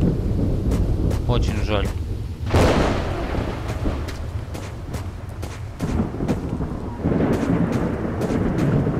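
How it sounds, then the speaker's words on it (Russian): Thunder rolls and crashes over steady rain in the S.T.A.L.K.E.R. Lost Alpha video game, a loud broadband rumble that peaks sharply near the middle, while someone talks briefly early on. "Под дождем, под громом"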